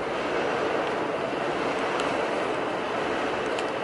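Steady broadband rumble of a train passing in New York City, heard from a garage where a Supra is being worked on, with faint squeals on top and no talking.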